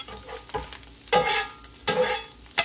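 Food sizzling on a hot griddle for a budget Philly cheesesteak, a steady close hiss broken by bursts of louder crackling and scraping as the spatula turns and stirs the meat.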